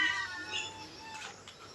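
A caged cat at a temple meows in a few short, high calls over a faint background hum, fairly close.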